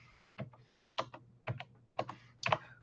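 Several distinct keystrokes tap on a computer keyboard while a zip code is entered, crisp clicks spaced about half a second apart, close and alone.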